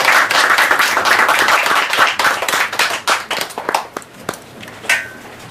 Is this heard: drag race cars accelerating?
no